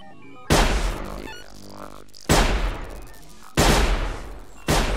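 Shotgun blasts in a first-person hunting survival game, four loud booming shots spaced about every one to two seconds, each with a long decaying tail, no talking.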